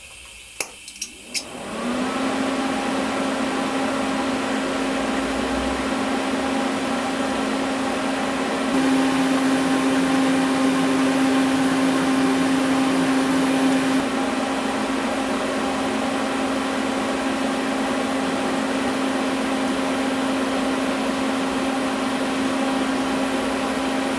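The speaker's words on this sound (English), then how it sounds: "Now we can safely weld around there." A gas turbine combustor is welded with a back purge gas flow, a steady loud electric hum with a constant tone running unbroken for over twenty seconds after a few clicks at the start.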